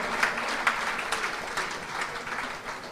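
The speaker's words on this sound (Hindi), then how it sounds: "देखो 500 रुपये के नाम पे क्या तालियां बजी" An audience at a spiritual discourse breaks into steady clapping, a continuous wash of many hands at moderate level with a few sharper claps poking out near the start.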